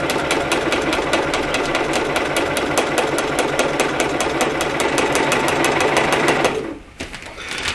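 A sewing machine stitching through a quilted stocking with a tear-away pre-printed design runs in a steady, fast mechanical chatter close by, then stops abruptly near the end, leaving only quiet handling noise.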